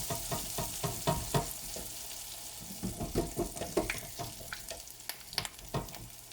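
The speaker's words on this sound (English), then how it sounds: "Listen for the sizzle." Scotch eggs frying in hot oil, giving a steady close sizzle with repeated crackling pops and spits throughout, with no voices.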